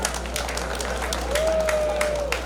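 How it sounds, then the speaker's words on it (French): A crowd claps warmly for a woman at a 75th birthday celebration, with a steady patter of applause and a faint sustained tone running underneath. "On applaudit très fort pour elle."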